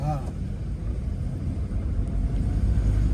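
Engine of a 20-year-old Hyundai Santro car running after sitting unused for a year, a steady low rumble that holds evenly throughout, with a faint voice briefly at the start.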